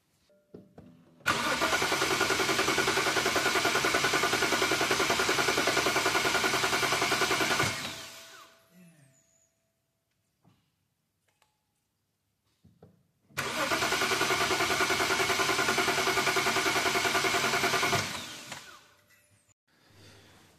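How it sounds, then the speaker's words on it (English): A BMW engine with DME and CAS faults cranks for about six seconds without catching, falls silent, then cranks again for about five seconds, a steady loud whirring close by. "you heard it crank not start"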